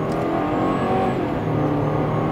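A turbocharged 2005 Subaru Legacy GT accelerates hard, its engine note a steady, loud broadband roar that holds throughout with faint turbo whine above, heard from inside the car with no talking.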